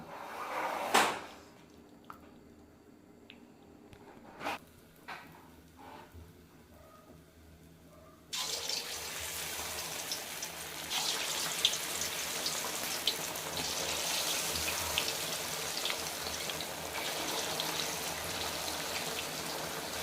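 Marinated chicken kabab pieces go into hot oil for frying: a few clattering knocks come first, then a steady, close hiss and crackle of oil runs continuously to the end.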